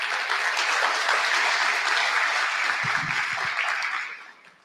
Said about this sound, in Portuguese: Recebam-no com uma calorosa salva de palmas.